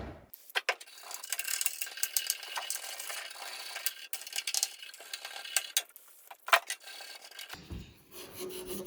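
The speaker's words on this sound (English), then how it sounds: "just spraying some wax and grease remover over all these parts and just scrubbing them" Close, brisk scrubbing with a stiff nylon brush on metal parts from an 1988 Jetta sprayed with wax and grease remover, rapid irregular rasping strokes with short pauses, no voices.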